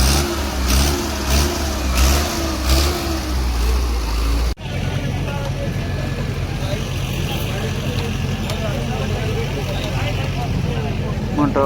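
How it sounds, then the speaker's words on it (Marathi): A large Hindustan tractor at an agricultural exhibition runs with a steady mid-pitched engine drone, revving loudly at first before a sudden cut into a continuous lower rumble with crowd noise around it. "हिंदुस्तान कंपनीचा हा मोठा ट्रॅक्टर"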